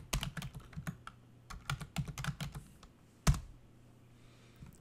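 Quick irregular clatter of keys being typed on a computer keyboard, close and quiet, in bursts with a few short pauses and one firmer key strike near the end.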